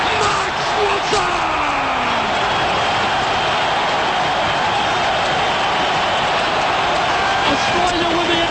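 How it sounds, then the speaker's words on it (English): Huge stadium crowd roaring continuously after a goalkeeper's penalty save in a World Cup qualifier shootout, Australia against Uruguay, a dense loud wall of cheering with a commentator's voice shouting over it. "The crowd! Just an absolute mountain of emotion."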